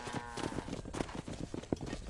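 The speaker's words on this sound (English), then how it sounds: "Herd the cows down the road." Hooves clip-clop steadily over a low rumble of a moving cattle herd in the video game Red Dead Redemption, a busy, continuous trampling with some thuds standing out.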